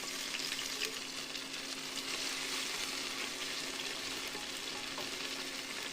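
Onion and ginger-garlic paste frying in hot oil in a pressure cooker: a continuous soft sizzle with faint stirring scrapes, steady and fairly quiet throughout, no voices.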